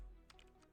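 A few quick, soft keystrokes on a computer keyboard, close and faint, clicking in a short cluster against a quiet room.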